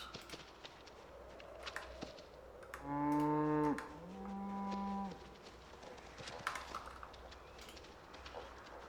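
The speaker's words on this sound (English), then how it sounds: "Happy to have calm cows." Several cows in a calm herd low in two long, loud, harmonic moos, one overlapping the next, rising over steady outdoor farm background with faint rustling and footsteps.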